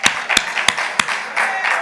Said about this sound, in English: All right, Ocean, let's clap that up.